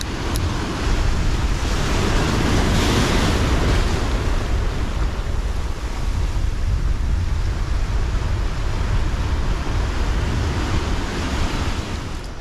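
Steady roar of wind buffeting the microphone by the sea, with surf rumbling underneath throughout, loud and continuous with no voices.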